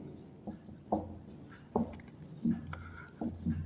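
Chalk or marker scratches and taps in short strokes on a board during a class six maths lesson on area, a teacher's voice talking over the writing.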